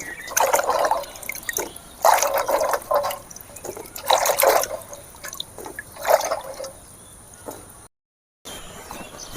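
Fresh turmeric roots are swished and rinsed in a bowl of water, making five bursts of sloshing and dripping separated by short pauses, close to the microphone.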